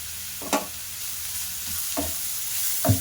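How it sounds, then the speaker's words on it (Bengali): Grated carrot stirred in ghee with cardamom and a piece of cinnamon, a soft steady sizzle with three distinct spatula scrapes spaced across a few seconds, close by. "দিয়ে ভালো করে নেড়ে চেড়ে নেব"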